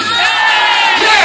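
A crowd at a precision driving demonstration at Ford headquarters cheers and whoops loudly in a brief, dense burst of raised voices, close and energetic.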